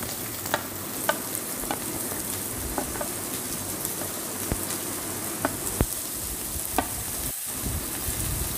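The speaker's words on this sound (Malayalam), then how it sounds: "4-5 അല്ലി വെളുത്തുള്ളി ചെറുതായിട്ട് കട്ട് ചെയ്ത് വെച്ചിട്ടുണ്ട്. അതും ഒരു 2 പച്ചമുളക് വട്ടത്തിൽ അരിഞ്ഞ് വെച്ചാൽ കൂടെ ഇട്ടിട്ട് നന്നായിട്ട് വഴറ്റി" Chopped garlic and sliced green chillies sauté in hot oil with onions for egg bhurji, a close, steady sizzle broken by regular scraping and tapping strokes of a spatula against the pan, with no voices.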